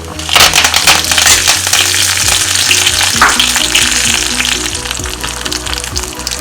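Whole dried red chillies and curry leaves sizzle and crackle loudly in hot oil for a Kerala raw banana curry, a steady close frying hiss with scattered pops and no talk.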